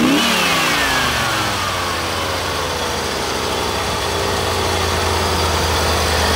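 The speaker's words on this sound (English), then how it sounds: "This engine starts right up when you turn the key." A 1985 Chevrolet C4 Corvette with an L98 V8 of 230 horsepower and 80,000 miles runs steadily and loudly up close, a constant dense engine roar that never lets up, with no voices.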